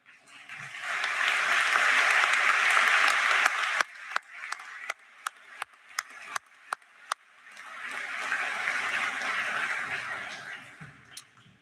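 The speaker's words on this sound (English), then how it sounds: "Would our board members that are with us please stand and let's give them a round of applause" A graduation audience applauds school board members, a dense wash of clapping that thins into a few scattered claps, then swells again into steady applause, heard from within a large crowd.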